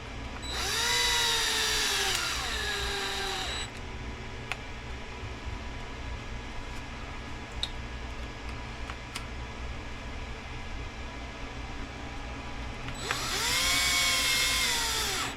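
Power drill driving screws into an Arrma Limitless V2 RC car, two loud close whirring bursts that rise and fall in pitch, one at the start and one at the end, with quiet handling noises between.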